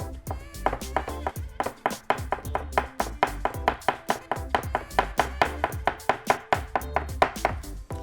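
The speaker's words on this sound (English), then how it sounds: "And mince it up. And as you can see, that's a pretty nice mince on the garlic." A chef's knife mincing garlic on a cutting board, a steady rapid rhythm of crisp taps, close and even, continuing without pause and with no talking.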